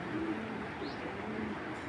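Pigeons coo softly and repeatedly nearby, low rounded calls rising over a steady background murmur, with a short faint chirp in between.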